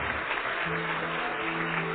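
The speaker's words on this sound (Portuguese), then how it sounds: "Vamos aplaudir mais, igreja." A church congregation applauds together in a steady, dense wash of clapping that stays even and fairly loud throughout, with a faint sustained tone from music or voices underneath.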